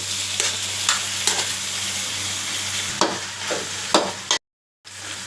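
Boiled shell vermicelli being stirred in a frying pan, with a steady close sizzle punctuated by sharp spatula scrapes and knocks, a brief silent break near the end before the frying resumes.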